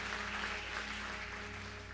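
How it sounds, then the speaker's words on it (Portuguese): A church congregation claps steadily through the whole moment, a dense, continuous wash of applause with a low hum underneath and no one speaking over it. "Pode aplaudir ele direito"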